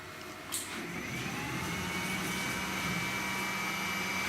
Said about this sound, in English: All we need to do now is to fire up our spindle.